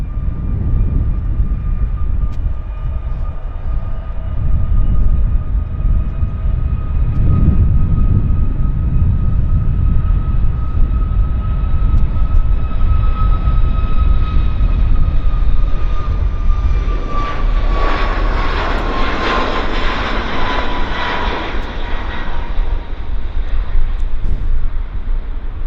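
An airliner departs from Vancouver Airport with a loud, sustained engine roar and a steady whine tone that slowly falls in pitch as it climbs away. A broad rushing surge builds in the second half.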